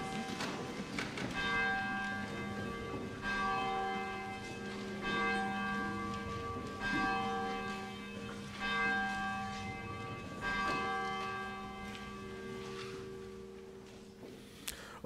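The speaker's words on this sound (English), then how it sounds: "I invite you to stand as you are able for the ringing of the bell" A church bell rings before a worship service, repeated resonant strikes spaced a second or two apart with long humming decays that overlap, steady and fairly loud throughout.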